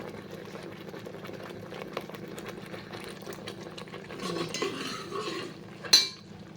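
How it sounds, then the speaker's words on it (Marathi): Masala for a spicy crab curry roasts in oil in a pan under steady stirring and scraping, ending with a sharp metallic clink against the pot. "अजून एक दोन मिनटं भाजायला पाहिजे त्याला तेल सुटलं पाहिजे तरच आपला मसाला भाजल्यासारखा वाटतो"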